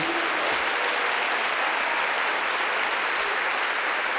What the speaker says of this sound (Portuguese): Quem pode dizer eu sou da família de Deus, dê um aplauso a Ele